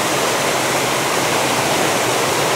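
Water pours over a concrete waterfall spillway in Japan, a loud, steady, broadband roar with no voices.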